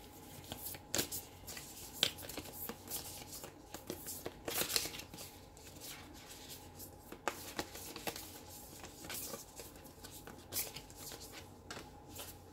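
Tarot cards being shuffled by hand, a run of quick riffling flutters and soft slaps up close, some cards popping loose, with no talking.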